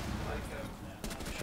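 Gunfire in the video game Rainbow Six Siege, a faint crackle of quick shots over low background noise, with a sharper burst near the end.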